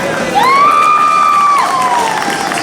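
Crowd cheering and whooping at a cosplay contest prize announcement, a loud sustained burst of shouts with a rising whistle-like whoop on top, continuing throughout.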